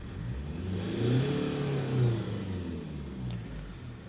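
A Toyota Corolla Verso D-4D diesel engine with a lack-of-power fault revs up close by, the steady idle climbing twice to higher revs before settling, with no talk over it.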